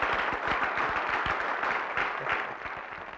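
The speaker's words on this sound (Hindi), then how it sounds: "और जोरदार तालियां बजाई जाए इस अवार्ड के लिए" Loud crowd applause honoring an award at a stage event, a dense, steady wash of many hands clapping together for about three seconds and tapering slightly at the end.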